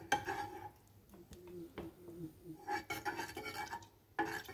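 Tapioca mixture cooking in a pot over a low flame, stirred with a utensil that gives soft, irregular scraping and light clinks against the metal, fairly faint and close.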